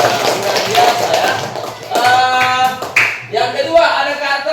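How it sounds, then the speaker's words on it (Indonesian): A classroom of pupils claps for a teacher named Kak Nora, a burst of scattered hand claps mixed with children's voices and chatter, loud and close, with the clapping thinning and returning in uneven waves. "Tepuk tangan untuk Kak Nora"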